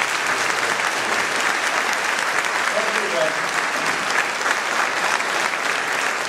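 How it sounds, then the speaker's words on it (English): An audience claps warmly in a hall after a speech at a Small Business Administration awards presentation, steady dense applause that holds at the same level throughout. "Give him another round of applause."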